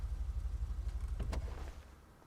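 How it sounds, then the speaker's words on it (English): Custom car idling in a GTA 5 Online garage, a low rumbling engine with a steady pulsing throb, quiet and close, easing down in level near the end with a couple of faint clicks over it. "It sounds just like the race car"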